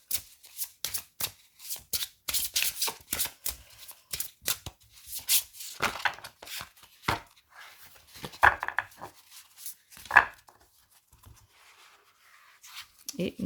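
Oracle cards are shuffled by hand in repeated quick riffling bursts with short pauses, close and crisp, while a person speaks at moments between them.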